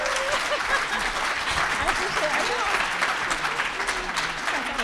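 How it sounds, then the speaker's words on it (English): Audience applause at the close of a panel discussion on a film about the Black press, a dense, steady clapping crowd filling the room for about five seconds. "let's give it one more hand clap."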